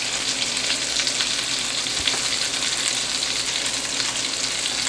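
Italian meatballs fry in a pan with a steady, dense sizzle that holds at an even level throughout, with one brief sharper crackle midway and no voices.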